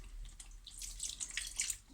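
Tap water runs steadily into a pot while cooking a lentil curry in a home kitchen, a soft continuous splashing hiss with no talk over it.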